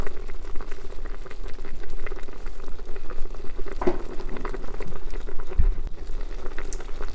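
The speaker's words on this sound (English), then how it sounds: "It can boil just like that." A large seafood boil pot bubbles steadily up close, a dense continuous rolling boil with an even level throughout and a couple of brief knocks, no talking.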